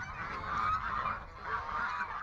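Canada geese honk loudly and close by in a few repeated nasal calls, with no talking over them.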